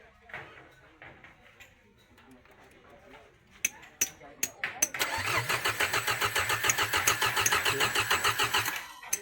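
Peugeot 406 engine cranking after an engine replacement: after some talk and a few sharp clicks, a loud, steady rhythmic cranking churn starts about halfway in and continues close-up to the end.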